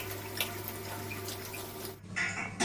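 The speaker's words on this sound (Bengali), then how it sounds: "এবারে ঝিঙে আলুটাকে ধুয়ে নেব ভালো করে।" Tap water runs steadily into a sink as ridge gourd and potatoes are rinsed, the flow briefly cut then splashing again more brightly near the end.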